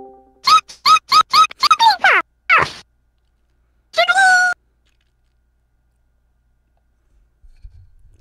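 Jigglypuff Pokémon cry from a soundboard: a rapid series of short, bright, squeaky chirps, then a longer sung note after a brief pause, ending in quiet.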